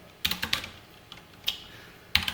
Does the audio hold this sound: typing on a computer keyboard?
yes